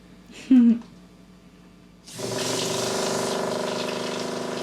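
A hot water tap opens in an off-grid cabin after a brief spoken word, then a steady hissing stream with a faint pump-like hum runs on unbroken to the end.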